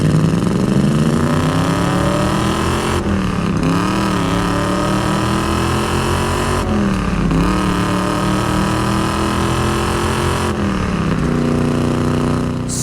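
A numbers-matching 1969 Chevrolet Camaro Z28 with its DZ 302 V8 and four-speed manual pulls hard on a road drive, revving up through each gear with brief dips at the shifts, loud and close without pause.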